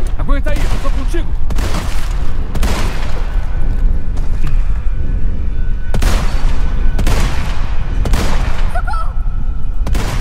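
Bursts of heavy gunfire and booming shots in Resident Evil 4 Remake at Castle Salazar, loud and repeated in clusters, with people talking over the action.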